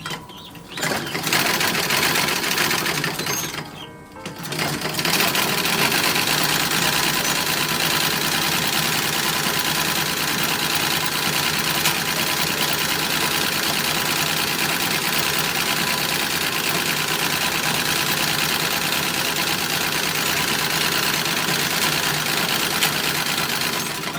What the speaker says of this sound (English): So I'm working on the skirt, which has tucks in the back. So 3 tucks, and they're 2-inch tucks. They're on the pattern piece, so I'm just stitching them down.